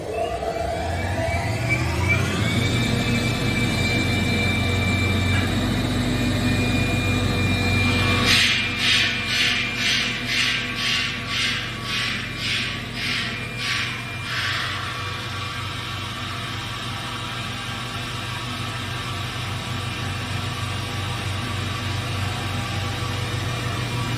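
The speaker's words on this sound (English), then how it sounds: "This is 11 bar version of the compressor, so let's start it and see how it builds pressure" A KAESER 11-bar screw air compressor starts beside a 3000-litre receiver, rising into a loud, steady machine drone with a rhythmic pulsing burst of valve hissing partway through, then settling into an even running hum.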